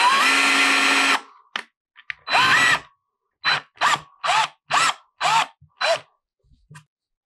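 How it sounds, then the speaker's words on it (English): A power drill bores through a wall to fit a thermostat, with one long whirring run followed by a series of short bursts in an even rhythm, close and loud, with nobody talking. "Now I can feel some sort of insulation, so I'm just gonna drill through a little bit."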